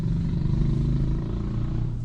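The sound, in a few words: motorbike passing by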